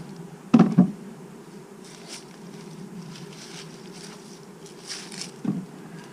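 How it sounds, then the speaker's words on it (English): Honey bees hum in a steady low drone during a hive inspection, with a couple of sharp knocks from the equipment early on and another near the end. "Lots of bees on there, wasn't there?"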